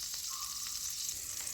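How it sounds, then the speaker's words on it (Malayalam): Sliced onion and green chili sauté in butter and oil in a pan, a soft, steady sizzle heard briefly and alone. "നന്നായിട്ടൊന്ന് വഴറ്റിയെടുക്കാം"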